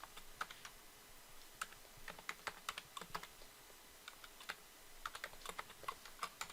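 Light clicking keystrokes on a computer keyboard, tapped in short irregular clusters and separated by brief pauses, including quick Ctrl+C and Ctrl+V shortcut presses, quiet and close with no voices.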